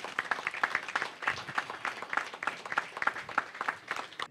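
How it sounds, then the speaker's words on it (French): An audience at a Congolese community meeting in Dakar breaks into steady applause. Many hands clap in a dense, even patter that rises and falls slightly over a few seconds, with no speech. "de nous lever et de vous acclamer pour manifester notre fierté"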